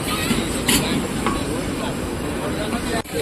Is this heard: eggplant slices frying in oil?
yes